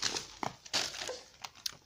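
Close, crisp crinkling of paper in irregular bursts, rustling and crackling with brief sharp peaks over a couple of seconds.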